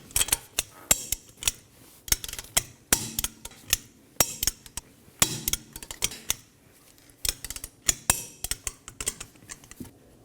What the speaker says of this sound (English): we're going to torque our 5 fasteners to 100 foot-pounds in an alternating pattern